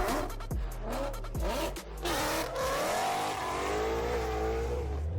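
A manual-swapped 2020+ Ford Shelby GT500 Mustang engine revs hard in several sharp bursts, then holds a rising, sustained roar. The sound is loud and close with no talking.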